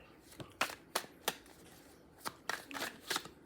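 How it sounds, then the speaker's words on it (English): A deck of tarot cards is shuffled close by, giving a string of soft, crisp riffling snaps and flicks at irregular intervals over a quiet room. "Let me shuffle one more time, and then I'm going to go ahead and pull one more card."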